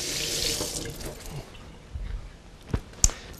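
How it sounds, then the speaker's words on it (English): Hands being rinsed under a running sink tap in a home kitchen, a steady close stream of water with a few splashes and soft clunks near the end. "Just wash my hands quick."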